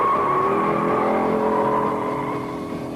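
A 1971 Dodge Challenger with a 340 V8 and Hurst shifter accelerating hard from a standing start, a loud sustained engine roar holding close and steady before easing slightly toward the end.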